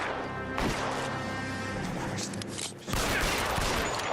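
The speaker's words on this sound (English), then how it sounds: "Oh, shot the gun out of his hand." Rapid gunfire from a shootout in the LA Noire video game: a dense string of loud overlapping shots and crashing impacts, with a brief dip before another heavy burst of fire.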